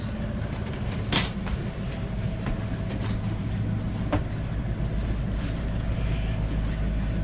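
A sailboat runs under its engine on an overnight offshore passage from Brunswick, Georgia, toward Beaufort. A steady low drone holds throughout, with wind and water noise and a few faint knocks and creaks.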